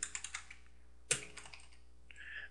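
Keystrokes on a computer keyboard while setting up a new hard drive in Linux: a few quick, quiet clicks, one sharper tap, then soft scattered key presses, close and faint with no voices.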